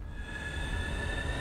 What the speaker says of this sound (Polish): Lokomotywa przybyła.